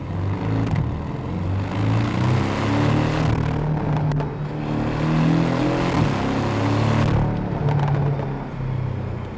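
A Porsche 718 GTS with a 2.5-litre engine is heard from inside while driving. Its engine drone rises and falls as it accelerates through the gears, loud and continuous with brief dips at the shifts.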